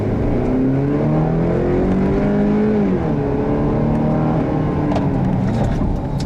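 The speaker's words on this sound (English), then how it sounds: "let's try another acceleration run and I'll show you just how hard you have to push it to get this truck" A 2015 GMC Canyon pickup with a four-cylinder engine accelerating hard, loud and close, the engine note climbing steadily through the revs with a brief dip partway through.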